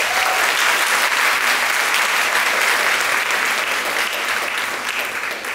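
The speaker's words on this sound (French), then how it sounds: "je vous demande de l'applaudir" Dense, sustained applause from a lecture-hall audience welcoming a first-year university student to the podium, steady and loud throughout with no pause.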